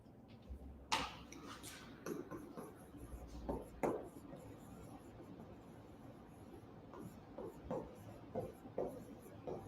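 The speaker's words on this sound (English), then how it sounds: "Let me write this down for you guys." A pen scratches quietly across paper as someone writes something down by hand, faint intermittent strokes and taps spread unevenly over several seconds with no talk.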